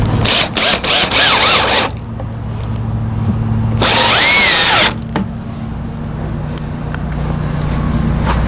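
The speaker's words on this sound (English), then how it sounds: "take the screws, screw them in the end, and then screw them along the side here to hold them" A power drill drives screws into the wooden ends and sides of a small raised garden bed, giving several short bursts and then one longer run that winds down, close up and loud.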